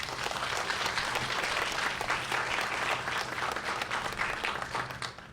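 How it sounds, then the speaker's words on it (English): An audience at a women's summit claps steadily in tribute to the late Vice Speaker, a full, even round of applause lasting several seconds with a faint low hum underneath. "Let's give her a round of applause."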